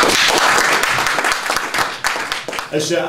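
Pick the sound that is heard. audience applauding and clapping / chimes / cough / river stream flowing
audience applauding and clapping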